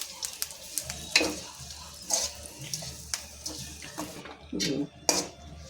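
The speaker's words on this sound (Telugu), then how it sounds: "కరివేపాకు కొత్తిమీర కూడా వేడి మీద ఇలాగ మగ్గనిస్తే సరిపోతుందండి" Curry leaves and coriander sauté in a hot pan while making coconut pickle, giving a soft sizzle with scattered crackles and the scrape of stirring.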